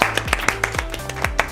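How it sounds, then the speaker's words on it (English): Clapping at a college presentation, several sharp separate claps in an uneven rhythm over a low murmur rather than full sustained applause. "Please applaud me."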